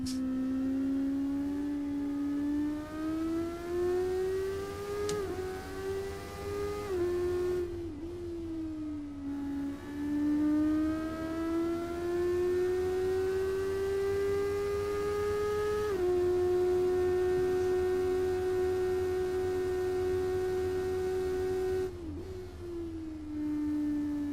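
A Formula Student race car engine held high around 12,000 RPM, a loud, sustained buzzing whine that rises and falls gently with throttle and gear changes, with short dips where the revs drop.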